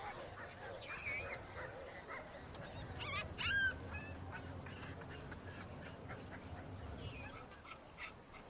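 A female dog living among baboons on steep, rocky primate territory gives short barks and yips mid-clip, with a puppy's faint whimpers, over steady outdoor background noise.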